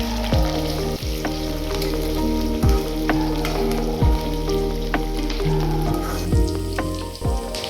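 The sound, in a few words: onions stir frying in a pan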